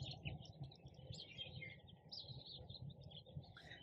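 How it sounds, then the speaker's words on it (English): Birds chirp and tweet steadily at a golf course at sunrise, quiet high calls layered over a low outdoor rumble, with no voices. "The birds are chirping."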